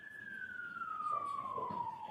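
An emergency vehicle siren played back from a recording, a single long tone sliding slowly downward in pitch over about two seconds, moderately loud with faint background noise.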